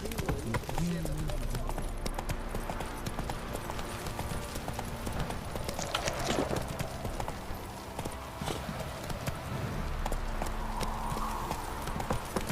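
Horse hooves clip-clop in a steady rhythm in The Witcher 3 video game, close by, while people talk over the sound.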